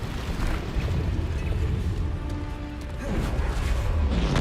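Bombarda spell explosions in Hogwarts Legacy, heard as a continuous rumbling boom with crashing debris, loud and close, swelling again near the end; no talk over it.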